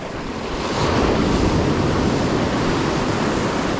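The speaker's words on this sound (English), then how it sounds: "Oh, watch them waves, guy. They'll come in and they'll sneak up on you." Ocean surf breaking on a beach during surf fishing, a steady loud wash of waves with wind buffeting the microphone, no voices.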